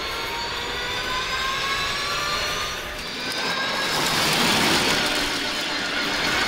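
The Ford Pro Electric SuperVan drives with a loud, high whine from its electric drivetrain, rising steadily and swelling with broad roaring road noise toward the end, with no talking.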